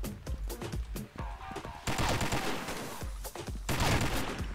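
Dense gunfire in a first-person shooter match on the Snow Valley map: rapid automatic bursts and overlapping shots that are loud and almost continuous, with brief lulls between volleys.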